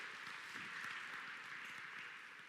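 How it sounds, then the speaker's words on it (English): Audience at the Easter Beef 2025 cattle show applauding the volunteers, a steady, fairly faint wash of clapping with no voices, holding evenly for a couple of seconds. "let's give the volunteers a round of applause"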